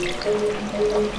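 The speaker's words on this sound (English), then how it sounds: "I'm going to remove the water from the sweet potato." A brief, close trickling pour as water is drained off steamed sweet potato in a home kitchen. It is soft and lasts about a second, with no talking.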